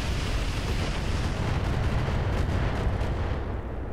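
Missile barrage in the video game Roguetech: a loud, continuous wall of rumbling detonations and roaring blasts that pounds steadily without a break, with no talking.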